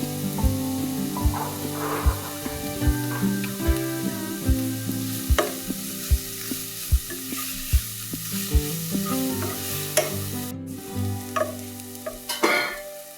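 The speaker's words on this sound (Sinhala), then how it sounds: "සොසේජස් ටික මේ විදිහට එකතු කරගෙන දැන් හොඳට බැද ගන්නවා" Sausages fry in a pan for a Sri Lankan noodle dish. A steady, close sizzle runs throughout, broken by repeated clicks and scrapes from stirring, with a tonal background underneath and no talking.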